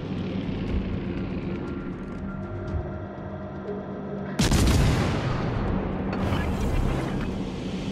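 Heavy warship gunfire in World of Warships: Legends, a sustained rumbling naval game ambience broken by a loud, broad blast midway that lingers into a roaring wash.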